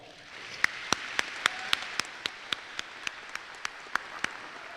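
Applause at a Texas Department of Transportation safety banquet: a sparse, fairly faint patter of evenly spaced claps, like only a few hands joining in, over quiet room tone.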